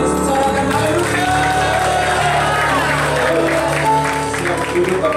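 A church congregation cheers and shouts hallelujah with hands raised, a loud, dense wall of crowd voices, clapping and whoops over sustained worship music, steady throughout.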